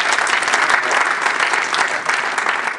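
Enthusiastic audience applause at an Urdu Academy ghazal and poetry program, welcoming a poet to the stage; dense, loud clapping from many people, steady and unbroken across the whole stretch.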